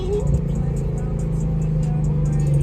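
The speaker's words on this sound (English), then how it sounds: "Sheesh, those downshifts crazy." A car at a rainy street car meet downshifts and revs with rising and falling engine tones, loud and close, while a crowd's chatter murmurs underneath.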